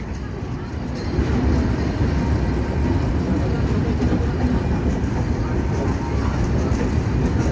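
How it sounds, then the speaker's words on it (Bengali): A train rumbles past at close range in Bangladesh, a steady heavy roar that swells after the first second and holds to the end, with faint voices in the background. "এই যে চলে গেল ট্রেন।"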